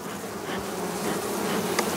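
A soft, steady buzz of bees working a patch of Phacelia flowers outdoors, several insects droning close by with one brief louder pass, and no voices.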